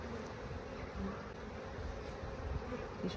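Honey bees buzz as a steady, dense drone close by while a hive frame of worker and drone brood is handled during an inspection.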